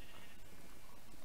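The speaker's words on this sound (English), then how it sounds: "I got all these sheep and pigs and cows started" Sheep bleat in a Minecraft survival game, a steady, fairly loud synthetic bleating over a dense, noisy game background with no talk.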